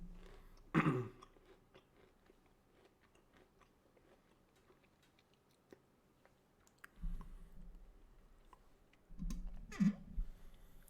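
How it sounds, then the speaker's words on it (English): Someone chews food close to the mic, with a sharp crunchy bite early on and then louder wet munching in two later bursts, against a quiet background with faint clicks. "Sorry about chewing as well. I'm just hungry."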